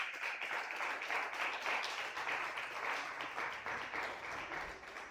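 A church congregation gives the Lord a loud round of applause during a sermon, steady massed clapping from a roomful of people, rising slightly mid-burst and holding for several seconds.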